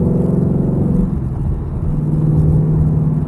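A 2018 Ford Mustang direct-injection engine runs at a steady idle, a loud, close, continuous low drone with a faint rapid tick riding on the hum.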